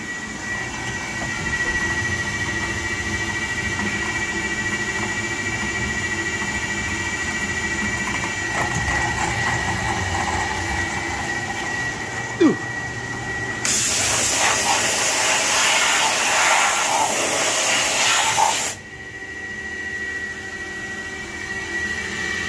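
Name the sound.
CNC machine drilling and tapping holes in BMW crown wheel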